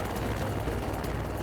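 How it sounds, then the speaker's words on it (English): Rescue helicopter hovering dangerously close overhead, a loud, steady rotor roar that fills the whole stretch with dense thumping wash. "The helicopter wavering dangerously close."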